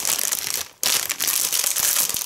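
Crinkling of a plastic snack packet of blanched peanuts, a continuous dense rustle that stops for a moment and then resumes, handled up close.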